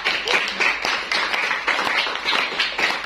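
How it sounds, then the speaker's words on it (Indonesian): An audience claps for a madrasah short-film team with fairly close, lively clapping in uneven bursts and no voices over it. "Tepuk tangan untuk kelompok madrasah."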